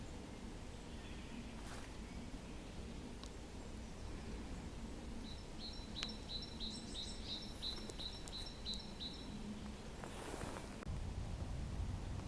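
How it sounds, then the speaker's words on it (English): In a Kent wood in March, a small bird sings a rapid, high-pitched trilling phrase for a few seconds against a quiet outdoor hush, with a few faint calls and rustles around it. "Recording the birds."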